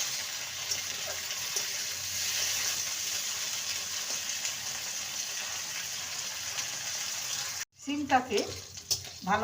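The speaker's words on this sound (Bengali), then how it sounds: "সিমটাকে ভেজে নেব" Small pieces of cut flat beans fry in a pan with a soft, steady sizzle for most of the time, then a sharper burst of stirring and crackling near the end.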